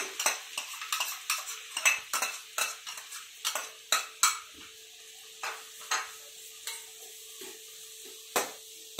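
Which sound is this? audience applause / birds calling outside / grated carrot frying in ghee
grated carrot frying in ghee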